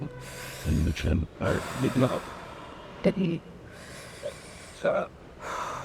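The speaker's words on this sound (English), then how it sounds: "breathing in and out through the mouth." Audible breaths in and out through the mouth, several separate gasping inhales and huffing exhales in an uneven rhythm during an ankle fascia exercise, close and fairly soft, with brief gaps between.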